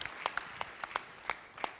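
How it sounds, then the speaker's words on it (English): At a conference, a few scattered individual claps ring out, sparse and irregular, about a dozen distinct sharp hand claps rather than a full crowd, fairly quiet. "We are requesting that we give him a round of applause."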